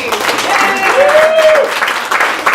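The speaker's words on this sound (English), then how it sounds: "So round of applause for Dave, please." An audience applauds for illusionist Dave Johnson at an afternoon show, a steady patter of many clapping hands with a cheer or whoop rising above it.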